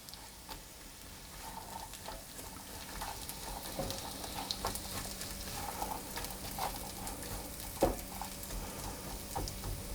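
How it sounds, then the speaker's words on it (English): Onions softening gently in a saucier for a chickpea coconut dal, giving a faint, steady low sizzle with occasional soft clinks and stirring scrapes, no talking. "I'm going to put the onions in, and I'm going to cook those quite gently for 5 or 6 minutes until they've softened"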